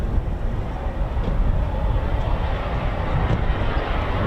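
A Eurofighter Typhoon FGR4 jet at RAF Coningsby starting up outdoors, giving a steady, dense, loud roar that holds constant throughout without clear pauses or voices.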